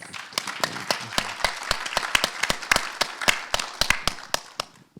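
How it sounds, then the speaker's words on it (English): Audience at a summit on digital technology and poverty bursts into applause, a dense, steady patter of many hands clapping close by, with sharp individual claps standing out throughout. "I think that deserves a round of applause."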